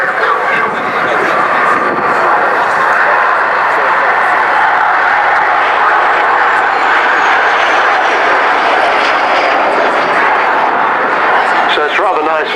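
A Gloster Meteor NF.11 jet flies past at an airshow, its steady, loud jet roar holding throughout with a slight rising whine near the end, while a commentator speaks over it.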